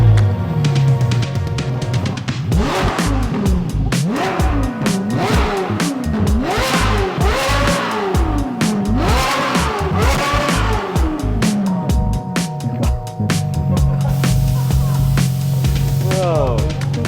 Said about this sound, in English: go see my Ferrari 458, which recently got a new aftermarket exhaust